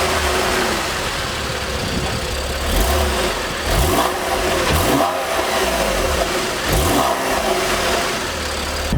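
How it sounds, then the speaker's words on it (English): A 2013 Porsche 911 Carrera with a manual gearbox revs and sets off, its engine note loud and close, swelling and dipping through several rises as it pulls away. "setting off in the 2013 Porsche 911 Carrera"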